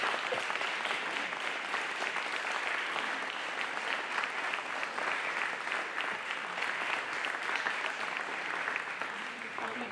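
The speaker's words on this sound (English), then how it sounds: "So let's give these folks all a round of applause." Sustained, even applause from a crowd at a ribbon cutting ceremony for a college welding and fabrication addition, a thick wash of clapping with no letup through the whole stretch.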